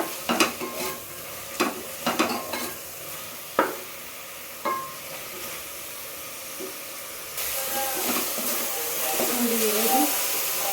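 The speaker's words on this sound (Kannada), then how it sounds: "ಈಗ ಫ್ರೈ ಮಾಡ್ತೀನಿ ಫ್ರೈ ಆಗ್ತಿದೆ ಇನ್ನೊಂದು ಸ್ವಲ್ಪ ಫ್ರೈ ಆಗಲಿ" Frying in a pan while making tomato rice bath: sharp scraping stirs and clanks at first, then a rising steady sizzle and hiss filling the last few seconds, close by.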